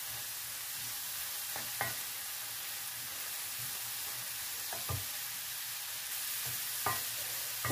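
Onion and peppers sauté in a pan for paella, with a steady low sizzle beneath a few sharp scrapes and clicks of stirring spread through the clip.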